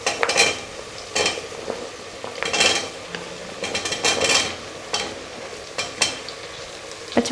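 Vegetables and fresh green peas tipped into a pressure cooker for veg biryani, then stirred, giving bursts of clattering and scraping with a soft sizzle beneath, loud and close, no talking.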